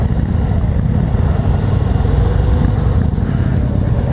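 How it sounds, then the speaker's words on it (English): A Harley-Davidson Breakout motorcycle from 2014 idling, a steady low engine rumble that is close and continuous for the whole stretch, with no talking. "Smooth, just sitting here idling."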